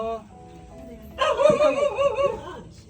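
A dog gives a short burst of yapping barks and whimpers, close by, while a person talks.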